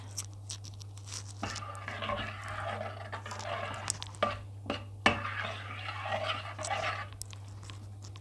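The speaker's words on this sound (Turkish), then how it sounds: "Ve karıştırmaya devam ediyoruz." White cabbage soup being stirred in a pot with a spoon, giving soft scraping and sloshing in short bursts over a steady low hum, with occasional clinks against the pot; no one talks.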